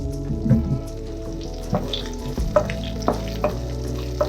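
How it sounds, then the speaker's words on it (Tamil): Grated coconut and a few cashews sauté in an oily pan for a roadside-style empty salna base, with a steady sizzle and occasional sharp scraping stirs of a spoon against the pan. "எல்லாத்தையும் சேர்த்து நல்லா வதக்கிக்கலாம்."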